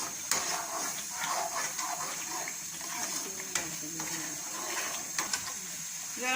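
Thick sugar syrup bubbling and sizzling steadily in a pan for petha halwa, with scattered pops and faint stirring scrapes, heard up close.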